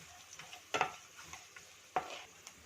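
Urad dal, cashews and peanuts lightly roasting in a pan, with faint sizzling and a few sharp scrapes and clinks of stirring against the pan, quiet and close with no talk.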